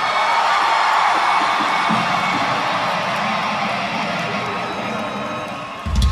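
Concert crowd at a show in Santander Arena, Reading, cheering and whooping loudly in a sustained roar that slowly fades, with a low thump near the end.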